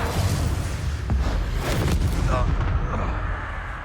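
Confringo blasting spell cast in Hogwarts Legacy during combat: a dense, booming explosive burst with rumbling low end and crackling debris, loud and continuous over a few seconds.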